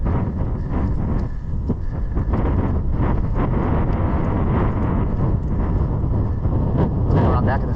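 Strong wind buffets the microphone on an open grass cross country course, making loud, continuous rumbling gusts close up that cover the whole stretch.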